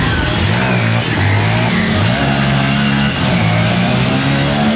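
A Honda XR150L trail motorcycle engine revs loudly and close, its tone rising and falling in repeated throttle blips with a constant heavy roar.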